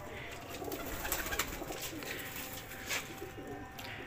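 Pigeons cooing in a pigeon loft, soft repeated coos and a few wing flutters and rustles over a quiet background, faint and fairly close.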